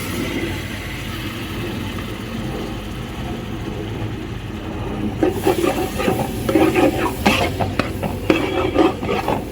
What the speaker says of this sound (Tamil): தக்காளி வந்து ஊறுகாய் மாதிரி நல்லா ட்ரையாக வதக்கணும்